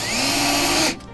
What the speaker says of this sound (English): So we just want to drill a little pilot hole